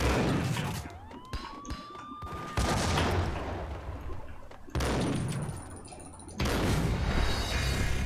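Heavy gunfire and explosive blasts in the video game Max Payne, several loud bursts separated by abrupt cuts and quieter stretches, with sharp shots and booming impacts.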